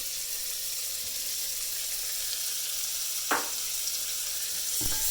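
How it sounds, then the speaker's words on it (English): Chopped onions sizzle as they hit hot bacon fat in a pan for bacon and garlic golden rice, with a steady, fairly quiet frying hiss and a couple of brief clinks from utensils. "Put the onions in there. Sizzle,"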